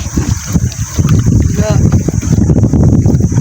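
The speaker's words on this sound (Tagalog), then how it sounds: "mahangin po ngayon, sunod-sunod na" Strong wind roars in a steady, heavy rush across the microphone, with rumbling buffets and a faint voice underneath.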